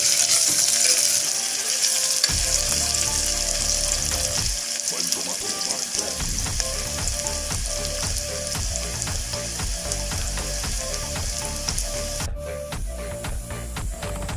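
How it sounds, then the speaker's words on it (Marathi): Onions sautéing in a pan while preparing dry chicken, a continuous loud sizzle with repeated spatula scrapes and taps stirring throughout, close up, with no talking. "कांदा चांगला लाल होईपर्यंत परता."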